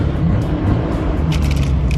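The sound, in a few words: Nissan Skyline GT-R R34 engine running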